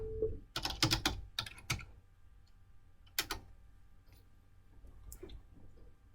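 Keys clatter on a computer keyboard during a PowerSchool login, a fast burst of typing up front, then a pause and a few scattered keystrokes, close and clear with no talking.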